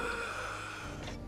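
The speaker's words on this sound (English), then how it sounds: "Unfit slob breathing." Heavy, labored breathing of an out-of-shape video game character, a few loud gasping and snorting breaths up close against a steady game background.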